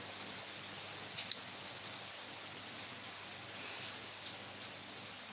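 Rain falling outside on a farm, a faint steady hiss with one small sharp tick partway through, constant and without pause, no voices.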